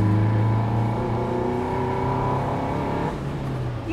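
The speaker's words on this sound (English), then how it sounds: "Lovely revvy engine, the gear shifts as well." Lotus Elise S1 engine revving steadily while driving, a sustained close-up engine drone that drops in pitch near the end as it shifts gear.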